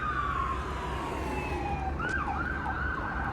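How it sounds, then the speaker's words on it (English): An ambulance siren winds up and wails in rising and falling sweeps over steady traffic rumble, heard from a moderate distance outdoors on a North York, Toronto street. "Now we have an ambulance trying to get sirens on"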